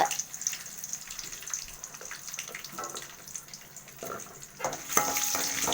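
Dried red chillies fry in a pan as they are stirred through, a moderate crackling sizzle with irregular scraping and stirring noises, swelling louder near the end.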